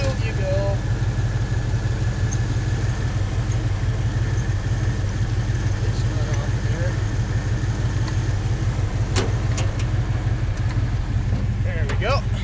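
A John Deere 800 swather engine runs loud and close with a steady rhythmic low chugging throughout, while a person talks over it.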